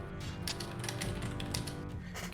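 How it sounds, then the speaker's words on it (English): Fast, furious clattering of keys on a keyboard, a dense continuous stream of clicks up close with no voices. "Just furiously typing."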